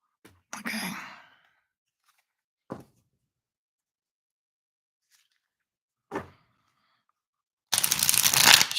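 A deck of cards is shuffled a few times in a quiet room: brief riffle bursts with long gaps between them, then a longer, louder, dense flurry at the end.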